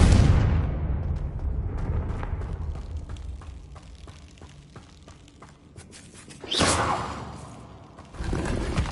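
A Confringo fire spell from Hogwarts Legacy erupts in a loud, rumbling burst, its long rolling tail fading before two more sharp bursts flare up near the end.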